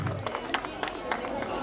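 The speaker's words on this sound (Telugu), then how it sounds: "ఒక్కసారి చప్పట్లు వెల్కమ్ చెప్దాం" Audience applause welcoming a singer to the stage at a first birthday party: scattered, moderately loud claps ring out at an uneven pace over a steady background of crowd murmur.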